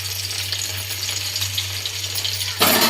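Crushed garlic sizzles in hot oil in a kadai, making a steady close crackle over a low hum, then a sudden louder burst of frying at the very end.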